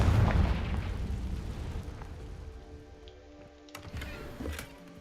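A Confringo fire spell fires in Hogwarts Legacy with a loud booming blast that decays over a couple of seconds, followed by scattered fainter crackles and pops.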